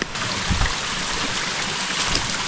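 Water flows continuously along a stream at the Punyagiri temple in Araku, making a steady broadband rush with faint low gurgles and no voices.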